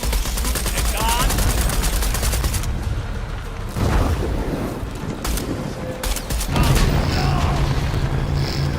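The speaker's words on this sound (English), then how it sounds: "Shoot a gun." Gunfire in Shadow of the Tomb Raider: rapid bursts and heavy booming shots crowd together, mixed with mechanical clatter and game music, loud throughout.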